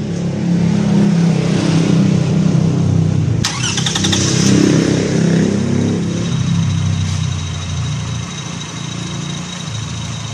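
Car engine with a fuel injection system and its airflow sensor unplugged, cranked by the starter and catching, then carrying on at a loud, close idle with a steady rumbling drone.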